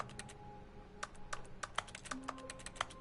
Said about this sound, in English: I'm not even on a computer and it sounds like I'm typing